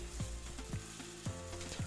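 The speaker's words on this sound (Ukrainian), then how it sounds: "Розігріваємо сковорідку, додаємо трохи олії та половину цієї маси." Steady sizzling of oat and avocado batter frying in an oiled pan, with a few soft scraping knocks from a utensil at regular intervals.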